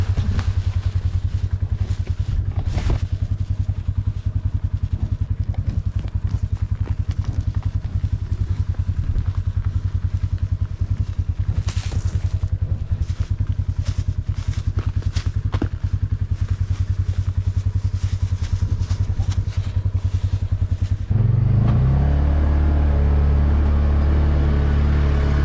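An ATV engine idles steadily throughout, a constant low rumbling drone near the listener with faint clatter, swelling louder and deeper near the end as it revs; no speech.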